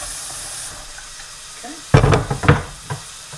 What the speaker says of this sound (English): Just rinsing off my board real quick.